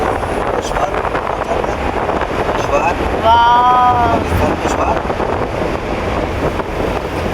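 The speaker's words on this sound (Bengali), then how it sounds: "আমার হিজাব উড়ে দেখে আমরা বুঝতে পারছি অনেক বাতাস" Gusty wind roars steadily against the microphone outdoors near Aisha Mosque, with a brief voice-like sound partway through.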